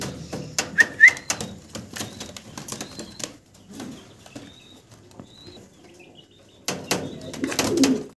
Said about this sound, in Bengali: এই যে এখন সামনে যেটা ডাকাটাই করতেছে নর